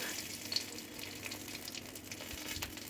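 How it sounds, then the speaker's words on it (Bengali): Bay leaf and dried red chilies sizzle in hot oil in a kadai, a steady soft crackling hiss with a few small pops, close and continuous with no talking. "আমার কড়াইতে যে তেলটা আছে ওটাতে ফোড়ন দিয়ে দেব"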